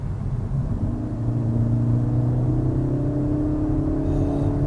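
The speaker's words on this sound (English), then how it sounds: "this is a 4-cylinder turbocharged petrol engine, but as I accelerate this car," A turbocharged four-cylinder petrol engine in a 2021 Kia Forte GT revs up steadily under acceleration, a deep, throaty rumble rising in pitch over several seconds, loud and close with no talking.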